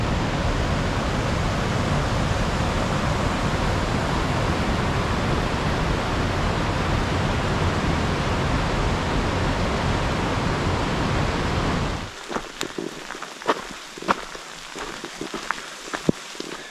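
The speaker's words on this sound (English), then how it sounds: "it's a downpour right now" A heavy rain downpour hisses loudly and steadily on a hiking trail in Lost Creek Wilderness, Colorado, then cuts off abruptly to quiet with scattered close taps and rustles.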